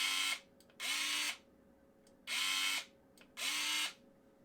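Parkside PAAS 4 A1 4V cordless electric pruning shears whir in four short motorized bursts, each about half a second with brief pauses between, close and clear with no talk.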